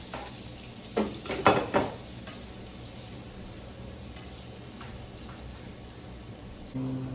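Garlic sautéing in melted butter in a pan gives a faint, steady sizzle, with a few short bursts of stirring near the start and a low background hum.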